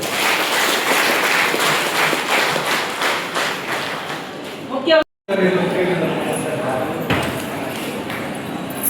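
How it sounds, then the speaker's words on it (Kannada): A crowd at a public de-addiction campaign event gives a big round of applause for the committee and dignitaries, rhythmic clapping mixed with voices, briefly cutting out before continuing. "ಎಲ್ಲ ಗಣ್ಯರಿಗೆ ದೊಡ್ಡ ಚಪ್ಪಾಳೆ ಮೂಲಕ ಅಭಿನಂದನೆ ಸಲ್ಲಿಸುತ್ತೇವೆ"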